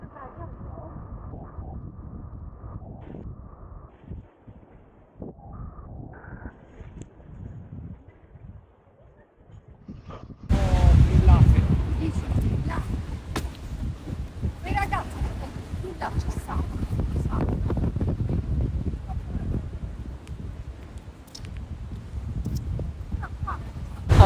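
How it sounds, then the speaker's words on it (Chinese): Strong wind buffets the microphone on the seashore at Roca in Puglia, Southern Italy, loud gusty rumble swelling after a quieter start, with people talking over it. "好大风！"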